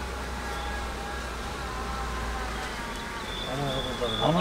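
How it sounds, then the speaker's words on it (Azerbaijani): Honeybees at the entrance of an Azerbaijani beehive fan their wings to cool it, making a steady, close, continuous buzzing drone with faint occasional higher whines and no speech. "burada spesiyalni arılar oturub, qanadlarını tərpədirlər, ventilasiya yaparırlar, sərinlik yaratmaq üçün"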